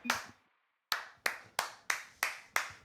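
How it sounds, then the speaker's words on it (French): Sharp, separate hand claps spaced about a third of a second apart follow one early clap and a short pause, close and fairly quiet, with no voices, after an esports Rocket League play. "Applaudissements."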